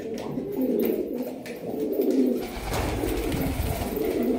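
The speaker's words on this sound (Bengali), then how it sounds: "কি সুন্দর দেখতে পায়রাগুলো" Black high-flying pigeons coo in soft, low repeated phrases, several birds close by, with a steady murmur of cooing and a little rustling background, no speech.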